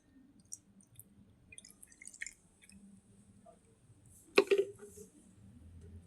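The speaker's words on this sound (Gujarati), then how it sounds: "એમાં પાણી એડ કરી દઈશું." Water poured into beetroot juice makes a single short splash and dribble, close and fairly quiet against a near-silent kitchen background.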